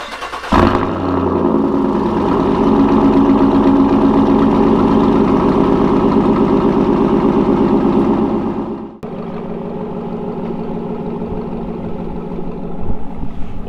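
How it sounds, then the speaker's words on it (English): GMC Denali SUV with a Corsa exhaust cold-starting on a cold day: the engine catches with a loud burst, holds a deep rumbling high idle for several seconds, then drops to a quieter, steady idle. "let's get a cold start for a cold day."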